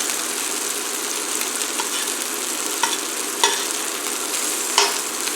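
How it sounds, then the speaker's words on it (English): Swedish meatballs sizzle and brown in a hot pan, a loud, even frying hiss throughout with a few sharp spatters and clicks as they are turned. "So I'm going to flip them over and brown them on the other side."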